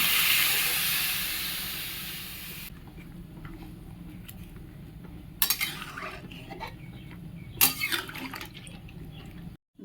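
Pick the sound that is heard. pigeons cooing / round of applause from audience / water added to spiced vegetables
water added to spiced vegetables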